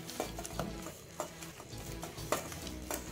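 Bonda batter with green chilli, curry leaves and ginger being mixed by hand, heard as soft, squelchy squishing repeated at a steady rhythm, close and fairly quiet.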